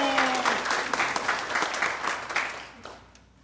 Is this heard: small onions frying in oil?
no